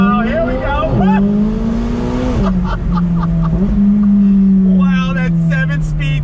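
A McLaren 570S Spider with its top down and 7-speed dual-clutch gearbox accelerating hard, a loud close engine drone that climbs, drops sharply at quick gear shifts and climbs again, with brief voices over it.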